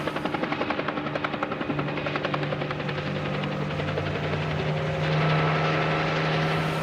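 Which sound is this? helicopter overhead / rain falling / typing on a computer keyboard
helicopter overhead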